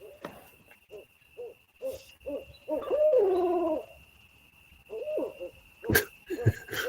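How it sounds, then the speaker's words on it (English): Owls hooting back in response to an owl call outdoors, a series of soft, moderately near hoots in irregular bursts with a longer wavering call in the middle, over a steady high background tone. "heard of anybody calling owls in before"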